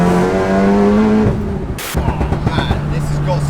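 A 700HP manual VW Golf R under hard acceleration, its engine note climbing loudly, breaking briefly for a gear change, then pulling hard again close by.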